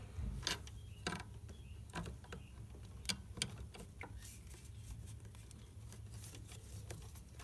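Faint metallic clicks and light taps as a holding tool is removed from a camshaft pulley before timing belt removal, scattered and quiet over a low steady hum, with no talking.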